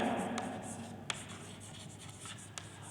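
Faint, steady scratching of writing on a board during a chemistry lecture on lipids, with a few light taps as the writing tool meets the surface, in a quiet room.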